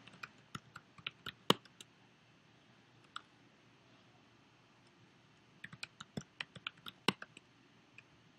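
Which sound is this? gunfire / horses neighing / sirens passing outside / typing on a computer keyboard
typing on a computer keyboard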